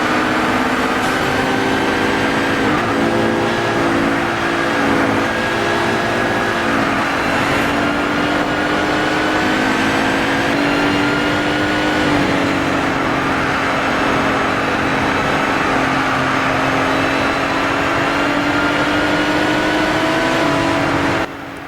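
Aston Martin GT race car in Gran Turismo Sport, its engine loud and sustained on an oval, with rising and falling revs and other cars roaring past throughout.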